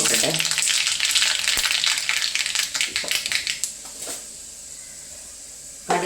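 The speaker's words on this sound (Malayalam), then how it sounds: "കുറച്ച് ഇട്ട് കടുക് പൊട്ടട്ടെ" Mustard seeds crackle and spit in hot oil, a dense, loud sizzle with rapid popping that thins out after a few seconds.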